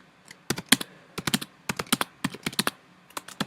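Typing on a computer keyboard, irregular bursts of crisp close keystrokes with short pauses between groups, no talking.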